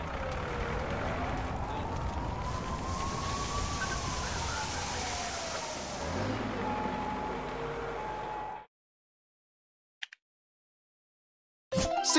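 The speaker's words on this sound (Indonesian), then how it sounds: "Mobil pemadam kebakaran." A fire truck siren wails in a rising and falling sweep for several seconds over steady engine noise, then cuts off into silence.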